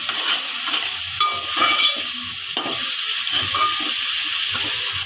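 Onion, green chilli, coriander, curry leaves and tomato frying in a pan as the base for chicken curry, a close, loud hissing sizzle with intermittent scraping stirs and soft knocks, continuous throughout without speech.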